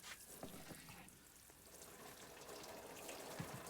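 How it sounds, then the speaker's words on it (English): A watering can pours water onto compost around an aloe in a greenhouse, producing a soft, steady splashing trickle throughout, quiet and close, with no talking. "now I'm going to add some water to it with a watering can."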